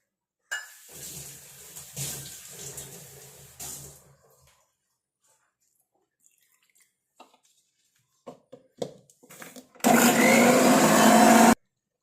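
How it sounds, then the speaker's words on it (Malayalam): A mixer grinder grinds herbs with water into a hair dye paste, starting with a loud, steady whirr for about two seconds at the end, after a stretch of clinks, scrapes and quiet handling. "പച്ചവെള്ളം ഒഴിച്ച് അരച്ചാൽ പേസ്റ്റ് രൂപത്തിൽ അരച്ചെടുക്കണമെന്നേ ഉള്ളൂ"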